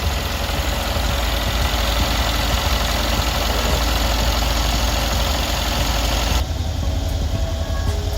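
A 2013 Mercedes-Benz SL63 AMG engine idles loudly and steadily nearby, a constant low rumble with a faint knocking texture throughout.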